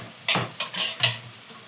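Tomato going into a salted fish curry in a pan, three quick sizzling, stirring bursts against a quiet background, close and moderately loud.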